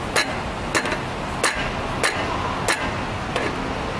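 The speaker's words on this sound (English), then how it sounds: "So let's loosen this bolt." A wrench loosens a bolt on a planter closing wheel with a series of sharp metallic clicks, about six evenly spaced ratcheting ticks, close and distinct over a quiet background.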